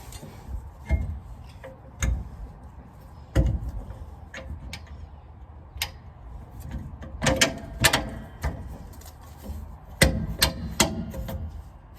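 Sharp metallic knocks from pounding a part onto a rear shock absorber of a 1980-1996 Ford F-150, scattered irregular strikes, some single and some in quick clusters, fairly close with no talking.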